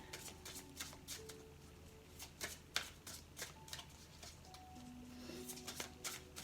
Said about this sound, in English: Let's just draw one card from the Spirit Messages deck to finish off.